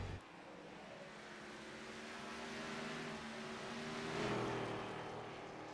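Race car engines in the iRacing sim at Richmond during an Xfinity Series race, a steady droning pitch that dips and then swells back up as the cars rev, rising toward a louder peak near the end.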